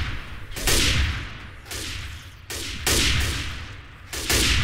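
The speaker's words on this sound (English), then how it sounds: "I can one-shot the SWAT guy now with explosive round" Explosive-round gunfire in Left 4 Dead 2: four loud, booming shots spaced about a second apart, each with a sharp crack and a long decaying rumble, close and without talk.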